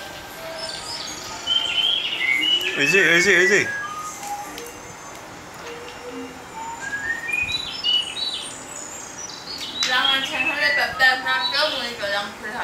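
Small birds chirp and tweet in quick rising and falling bursts, clustered early on and again near the end, with a brief voice speaking over them.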